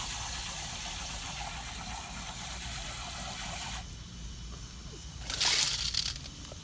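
Tumbled rocks from Crater of Diamonds State Park being rinsed in water, a continuous sloshing and running-water rush with a motor-like hum beneath, rising into a louder splashing burst near the end.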